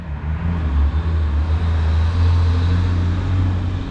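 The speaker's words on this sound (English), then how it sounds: "we're in a high traffic area." Road traffic rolls past in a high-traffic area of Tionesta, a steady loud low rumble of cars and trucks holding throughout without pause.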